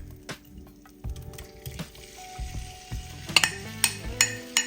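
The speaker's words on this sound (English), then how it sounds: "we're going to cook these sausages until they are done" Sausage pieces fry in olive oil in a pan over medium heat, giving a soft steady sizzle broken by a series of sharp scraping and clinking stirs from a utensil against the pan, close and without talk.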